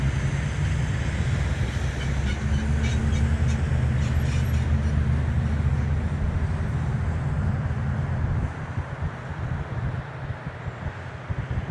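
A northbound freight train of mostly empty equipment rumbles past at night, a loud, steady roar of wagons close by that eases slightly near the end, with no voices.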